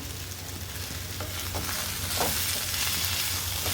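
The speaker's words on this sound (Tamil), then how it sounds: "நல்லா வதக்கிட்டுக்கலாம் சுரக்காய் தக்காளி எல்லாமே நல்லா வதங்கிடுச்சுங்க" Bottle gourd and tomato sauté in a pan for chutney, a continuous sizzle that grows slightly louder, with a few soft spoon scrapes and stirring strokes; no talking.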